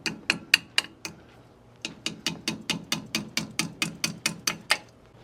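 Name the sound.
tapping brake part down with hammer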